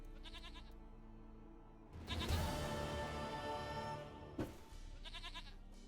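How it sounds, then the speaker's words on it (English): A goat in Witcher 3 gives a long wavering bleat, clear and fairly close, with quieter ambient game tones before and after. "Goat of mine, dearest, sweetest goat."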